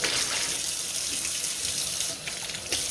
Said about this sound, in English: I'm going to run this and get some warm water